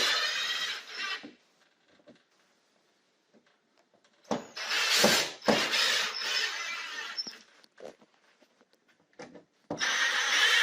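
Plastic clips being twisted and tightened on a Velux sun tunnel fitted into a hole, heard as close bursts of scraping, clicking and rubbing, separated by quiet pauses.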